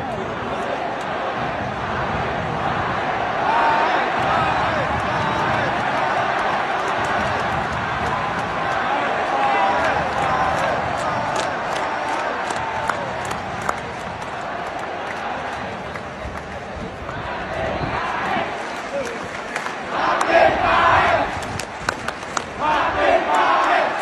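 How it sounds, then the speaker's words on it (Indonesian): A huge crowd of spectators roaring at Gelora Bung Karno stadium during an Indonesian national team match, a sustained, loud wall of cheering and chanting with rhythmic claps and surges, swelling again near the end. "Gemuruh suara penonton di Gelora Bung Karno"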